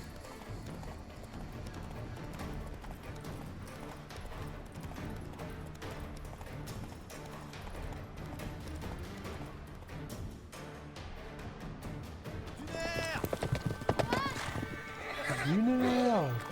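A horse in The Witcher video game gallops with steady hoofbeats, then neighs loudly near the end, with game ambience running throughout.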